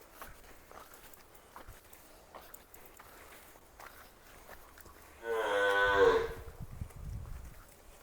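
A single loud, drawn-out cow moo rings out nearby after a quiet stretch, followed by soft shuffling and thudding sounds.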